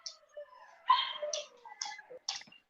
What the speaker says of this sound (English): I have obnoxious dogs.